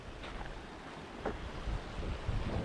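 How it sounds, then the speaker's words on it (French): Mountain stream water flowing down from a high waterfall at around 2,400 metres altitude: a faint, steady rushing wash with soft gusty swells and no voices. "Regarde, ça c'est l'eau qui vient de la cascade qu'on a vu là-bas tout en haut."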